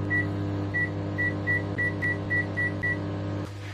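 A microwave oven powered by a DIY solar power system hums steadily while a series of about nine short, evenly spaced beeps sounds, then the hum drops off near the end.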